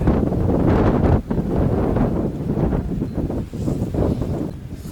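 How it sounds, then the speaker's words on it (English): Strong, cold north wind buffets the microphone outdoors on a Montana deer hunt, a loud continuous rumbling roar with gusty swells and one brief dip, no voices. "That wind's blowing like Mach 90 out of the north."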